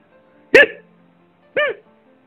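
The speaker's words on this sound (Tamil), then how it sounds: "Next number five, hiccup." Two sharp, voiced hiccups sound about a second apart, close and clear against near silence.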